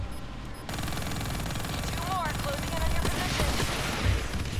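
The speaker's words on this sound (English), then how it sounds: "Watch that ground fire." Sustained ground gunfire in Call of Duty: Black Ops III, a dense, continuous rattle of automatic fire that stays loud throughout the clip, with brief tonal alerts mixed in.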